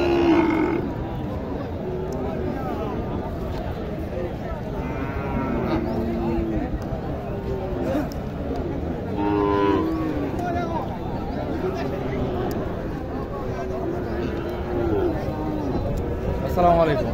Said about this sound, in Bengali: এখানে একটি ক্রস গরু দেখেন।